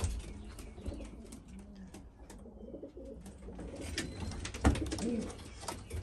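Racing pigeons coo in low repeated murmurs inside a loft, with soft wing flutters and rustling around them, fairly close and steady.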